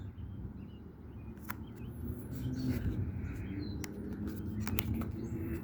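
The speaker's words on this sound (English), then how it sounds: "You can hear the birds in the background." Faint, scattered bird chirps over a steady low rumble of background noise, distant and intermittent.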